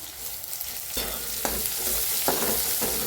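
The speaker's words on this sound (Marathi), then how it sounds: "टमाट्याला मी चांगलं भाजून घेऊया" Tomatoes with onion, green chilli and garlic fry in a pan, a steady bright sizzle with several distinct scraping knocks as a spoon stirs them, close up with no talking.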